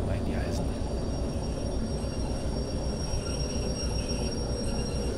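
Train in Derail Valley braking on a long stretch of track, a steady heavy rumble of rolling wagons with faint squealing tones above, a voice speaking over it.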